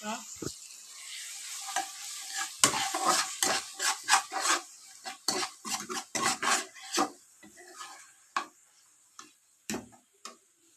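Onions and ginger-garlic paste fry in hot oil for egg curry while a spatula stirs and scrapes the pan in repeated close, loud strokes over a steady sizzle; no talking.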